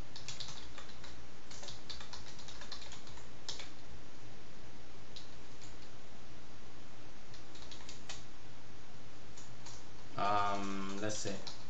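Someone types on a computer keyboard while setting up a WebDriver test, a steady run of soft key clicks in a quiet room, with a brief louder burst near the end.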